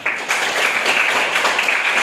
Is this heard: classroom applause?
yes